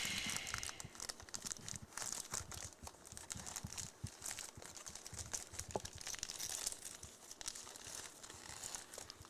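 Plastic packaging crinkles and crackles steadily as someone struggles to tear it open, dense rustling close up with no pauses and no speech.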